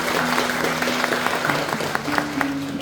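A church congregation applauds steadily at a revival service in Guanambi, a dense wash of clapping hands sustained throughout with a low sustained tone humming beneath it.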